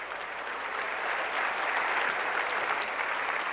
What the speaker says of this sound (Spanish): Denle un aplauso al Señor pues.